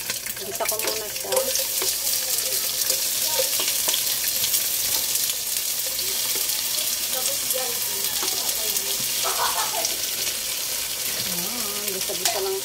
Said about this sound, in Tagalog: Gisa ko muna siya.